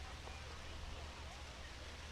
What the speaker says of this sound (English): It's like the rain is landing right on the tip of our microphone there.